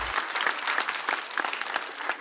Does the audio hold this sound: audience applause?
yes